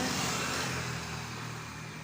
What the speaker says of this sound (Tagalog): Ayan, may mga dumadaang motor.